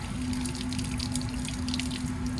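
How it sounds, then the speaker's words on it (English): Running water from a tap splashes steadily while scrubbed hands are rinsed for an operating room, with a continuous close wash, scattered drip and splash sounds and a faint steady hum beneath. "You want to make sure that it is rinsing in dripping water this way."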